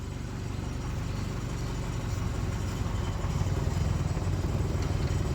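A car engine idles and pulls away in first gear as a learner driver sets off, giving a steady low mid-level rumble with faint clatter and no talking.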